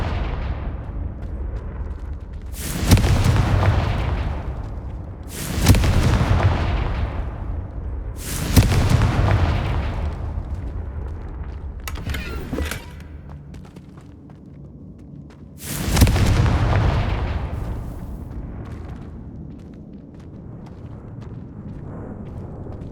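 Confringo blasting spells in Hogwarts Legacy explode five times in a row, each a loud booming burst that decays over a couple of seconds, spaced a few seconds apart.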